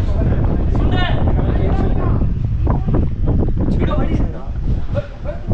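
Strong wind roars and buffets the microphone on a hilltop bridge during a trek from Tirupati to Puligundu, a constant loud rush with people talking over it.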